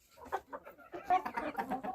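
Hampshire hens clucking in a pen in a steady run of short, overlapping calls, fairly close and moderately loud, with no voices.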